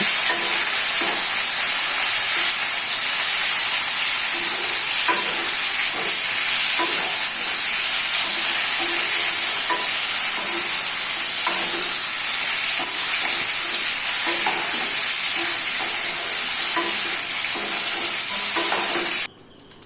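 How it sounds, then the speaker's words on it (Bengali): Chicken pieces fry and get stirred in hot mustard oil for a chicken curry, a steady loud sizzle with repeated scraping stir strokes throughout, no voices. "ওই একই তেলে আমরা মাংসগুলোকেও ভেজে নেব।"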